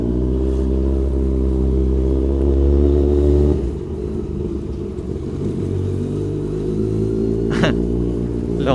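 A Kawasaki Z1000 motorcycle pulls hard with a deep, steady engine drone that holds loud and close, easing slightly partway through as it keeps running under a rider carrying a passenger.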